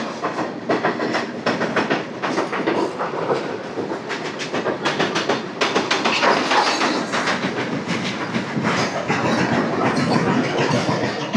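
Samata Super Fast Express (12807, Visakhapatnam route) running on rails near Vizianagaram, with steady loud rumble and repeated clickety-clack of wheels over rail joints throughout, no talking.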